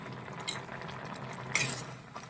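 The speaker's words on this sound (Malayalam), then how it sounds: "അപ്പൊ നമുക്ക് ഇച്ചിരി ഉപ്പും കൂടി ഇട്ട് ഒന്ന് ഇളക്കാം" A mango dish with dried red chillies and shallots being stirred after salt is added, two brief clinks of a spoon against the pot over a faint, low background simmer, quiet and close.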